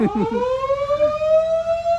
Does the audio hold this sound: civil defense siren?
yes